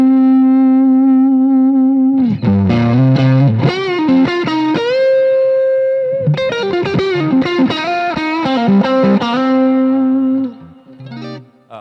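An electric guitar played through an amp's clean channel turned up to 10 rings out with a sustained distorted note, then fast bluesy runs and held bends, loud and close, fading at the end.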